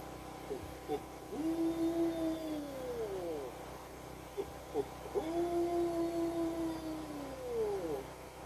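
A voice imitates an owl hooting in dark, close woods, giving two long, sliding hoots a few seconds apart, each rising and then falling away, with soft breathy sounds between them.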